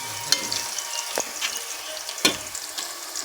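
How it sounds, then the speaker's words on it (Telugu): Fish goes into a pan of frying fenugreek and cumin for a home-style fish curry, with a close, wet sizzle and a few sharp splashy bursts as the pieces land; no voices. "వేయించిన తర్వాత చేపలు వేసుకుందాం"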